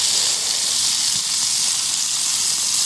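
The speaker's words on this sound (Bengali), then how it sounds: "এই দেখুন সুন্দরভাবে তুরগুলাগুলো ফ্রাই হচ্ছে" Turgula frying in hot oil, a steady bright sizzle and hiss held close and continuous for a few seconds, with no voices.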